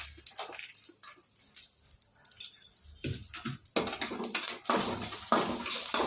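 Fennel seeds, cumin and peanuts are dry roasted in a pan for chutney powder, giving close, irregular scraping and rattling bursts of stirring that grow busier and louder toward the end.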